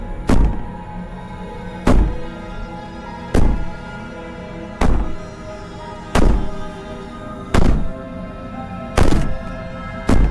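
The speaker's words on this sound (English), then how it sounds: "Maybe the banging and wailing will stop if you just don't pay attention to it." Banging and wailing in the video game Slay the Princess: seven loud, heavy thuds strike at a steady pace about every 1.4 seconds, with a sustained moaning drone filling the gaps between them.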